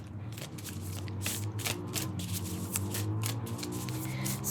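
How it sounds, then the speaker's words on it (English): Tarot cards from a freshly shuffled deck are pulled and handled, giving a quick series of crisp papery flicks and slides over a low steady background hum, with no talk. "So I've already shuffled, and now we're just pulling cards."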